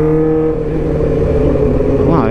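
A 2008 Suzuki GSX600R motorcycle engine drones steadily while riding, loud and close, holding a constant pitch before revving upward near the end, with a rider speaking over it.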